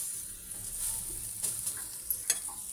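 Potato fritters fry in shallow oil on a griddle, a soft, steady sizzle heard close but faint, with a few small crackles near the end and no talking.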